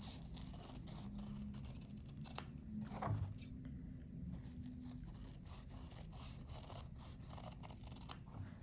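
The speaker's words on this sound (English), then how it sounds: "we're going to cut in the shape of the hoop here" Scissors snip through embroidery fabric around a hoop in a steady run of close crisp cuts, with a louder crunch near the middle and no voices.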